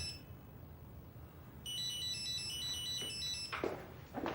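A telephone rings with an incoming call, its repeating electronic tone steady and fairly close in a quiet room, then a couple of soft knocks as it is handled.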